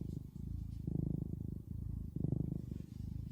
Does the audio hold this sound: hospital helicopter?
no